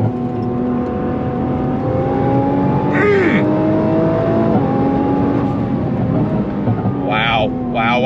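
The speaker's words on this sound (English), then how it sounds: "Love the pops, the bangs." Nissan GTR or C8 Corvette E-Ray engine working through a tight decreasing-radius corner, a steady loud engine drone with a few sharp exhaust crackles and pops near the middle and end, voices talking over it.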